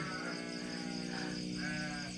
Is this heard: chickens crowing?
no